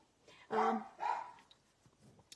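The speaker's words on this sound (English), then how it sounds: "my dogs are barking like crazy" Dogs barking indoors at home, two distinct barks close together at moderate volume, followed by quieter faint sounds in the room.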